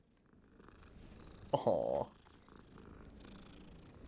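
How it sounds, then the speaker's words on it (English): A cat purrs in the video game Hogwarts Legacy, a short close burst of vibrating tone lasting about half a second amid quiet background, with a brief voice exclamation nearby. "Another cat."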